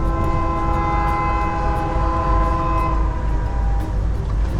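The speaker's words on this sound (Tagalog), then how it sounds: "Naharang-harangan talaga tayo ng train man ay." A train passes a road crossing, its horn sounding a long, sustained chord over a steady heavy rumble of rolling wheels, loud and close throughout.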